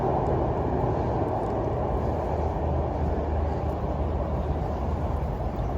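Train rumbling across the Padma Bridge, heard from below on the ground with trees between: a steady, loud, continuous low roar with no breaks, and no voices over it.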